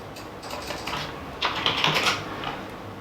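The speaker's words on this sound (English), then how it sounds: "My keyboard." Keys clatter on a computer keyboard in a rapid, uneven run of soft clicks, close and fairly quiet, growing busier and louder midway before easing off.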